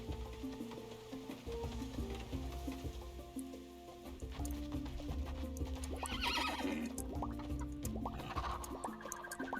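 Horses neigh and whinny on a farm among bison, boars and guanaco, with hoof clip-clops and a busy mix of animal and outdoor sounds running steadily throughout.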